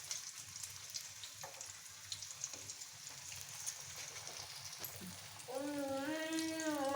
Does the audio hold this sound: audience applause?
no